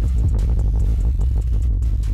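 Deep, muddy sub-bass notes overlap and smear into each other, producing a wobbling, phasey low-end throb that runs continuously without any voice.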